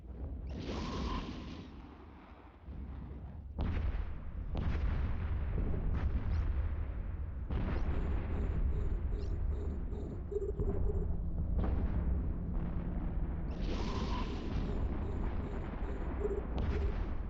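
Explosions in the space game Eve Echoes: deep, booming blasts and heavy rumbles recur over a droning background, with bursts at the start, middle and end.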